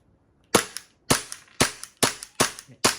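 A WE Galaxy gas blowback airsoft pistol fires six sharp, loud, close shots at a brisk uneven pace, each crack followed by a short mechanical clack of the slide, with no talking.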